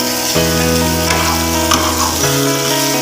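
Coconut and shrimp paste frying in hot oil for a Thai egg and coconut stir-fry, a steady close sizzle running throughout with a low hum beneath and no voices.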